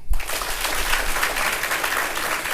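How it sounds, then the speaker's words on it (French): An audience applauds at a youth council gathering in Niamey, a dense, steady wash of clapping from a crowd with no break. "Mais là, c'est tout le monde qui applaudit, là."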